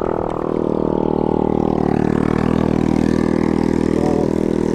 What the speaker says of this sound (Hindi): कैसी बाइक चला रहे हैं ये, अनलाइसेंस बाइक है ये